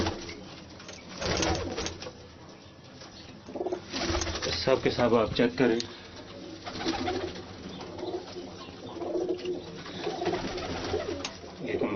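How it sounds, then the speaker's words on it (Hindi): Kamagar pigeons coo in a breeding loft where paired males and females are housed, making repeated low throaty calls at close range, with someone talking over them. "ये कमगर कबूतर देखें आप"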